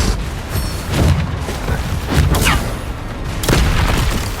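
The Bombarda explosion spell in Hogwarts Legacy goes off as a series of deep, rumbling booms, loud and close, with three heavy blasts spaced roughly a second apart over a noisy background.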